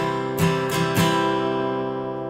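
Acoustic guitar strummed in a three-beat waltz pattern: three quick strokes close together, then the chord rings on and fades, near and clear with no talking.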